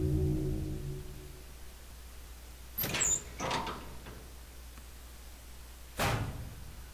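A door opening in Resident Evil Zero: a low hum fades, then a couple of brief mechanical scrapes and creaks follow, ending with one sharp thud, fairly quiet overall.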